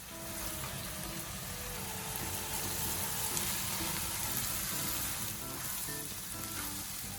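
Steady, dense sizzling of food sautéing in a hot pan for sipo egg with shrimps continues unbroken and fairly loud throughout, with no talking.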